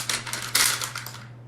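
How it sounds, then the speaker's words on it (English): Scratchy strokes of colored pencils on paper, a few quick rasping scribbles close by, one louder stroke midway, fading out at the end. "that's my colored pencils making noise"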